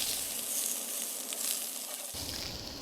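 Okra sautés in a pan with a steady, close hiss of sizzling, while soft scrapes of occasional stirring sound over it and the frying noise shifts slightly near the end.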